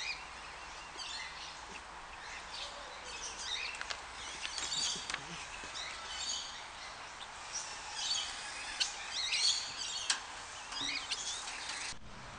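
Small birds in a park birdcage chirp and twitter in scattered, overlapping bursts over a low steady background, moderately distant and without any talking.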